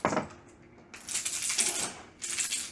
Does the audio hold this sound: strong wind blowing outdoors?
no